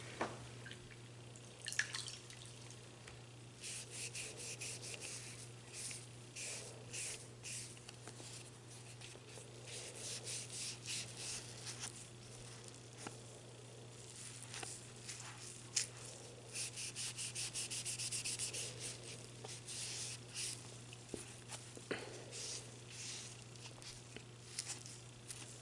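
Dirt scrubbed off a grimy makeup primer container, a steady soft rubbing and scratching texture with light dripping-like ticks, quiet and close over a constant low hum, with no talking.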